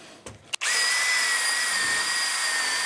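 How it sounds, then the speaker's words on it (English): A handheld drill driving a Forstner bit through wood, starting after a couple of short clicks and then whining at a steady, close, loud pitch throughout. "Let's try one with a Forstner bit."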